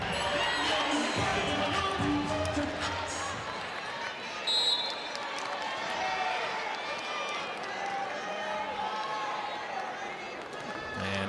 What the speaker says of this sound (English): drawing a roar from this pro-Louisville crowd